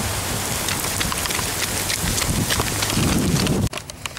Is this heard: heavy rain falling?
yes